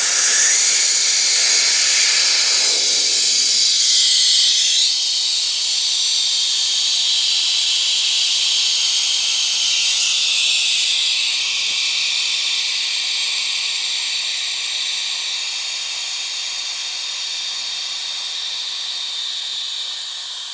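Air rushes loudly out of a tyre whose valve core has been removed, a strong, steady hiss close up that slowly fades and thins over about twenty seconds as the tyre empties.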